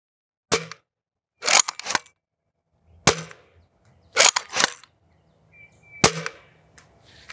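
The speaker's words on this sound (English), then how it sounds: "Popping off the tree every shot." Foam darts from a Nerf Sabre M20 sniper blaster smack into a tree outdoors, five sharp pops spaced about a second or more apart, crisp and fairly close, with quiet pauses between hits and no talking.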